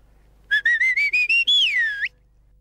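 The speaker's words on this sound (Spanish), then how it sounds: "Estos sonidos agudos que el pastor lograba soplando el chiflo eran reconocidos por el ganado" A hand-carved stone shepherd's whistle, or chiflo, is blown in a quick series of six short shrill chirps followed by one longer bending tone, loud and close over near silence.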